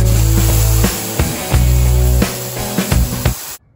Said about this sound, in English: We're gonna take it outside and just wash it with the hose and clean it up all good.